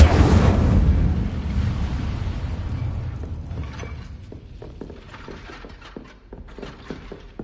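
An Incendio fire spell goes off in the Hogwarts Legacy game, a loud burst that decays into rumbling crackle, followed by scattered clicks and small mechanical impacts.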